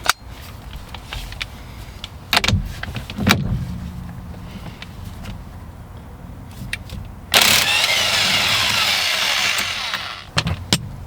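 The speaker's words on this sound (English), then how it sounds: "You're going to want to use your impact gun" An impact gun loosening the steering wheel nut on a 2001 Mazda Miata, a loud buzzing rattle of hammering bursts that starts partway through and runs for a few seconds, with clunks and handling noises before and after.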